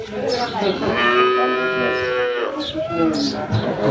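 A cow moos loudly nearby, one long drawn-out low call, with a brief voice and farm noise around it.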